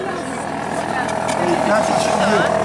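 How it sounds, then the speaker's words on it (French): A steady mechanical drone of an air compressor for model boat machinery fills the background at a steam model boat event while someone talks over it in French, with faint clanks and shifting tones. "le bruit que vous entendez c'est un compresseur pour les machines de Gisèle."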